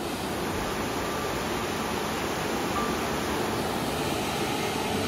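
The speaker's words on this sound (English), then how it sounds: "we found the waterfall and it is epic" A waterfall at Fossil Creek pours as a steady, dense roar of rushing water, loud and unbroken from start to finish with no voices over it.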